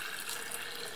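Milk is poured into a jar as a soft, steady hissing stream, faint and continuous for about a second with no voices.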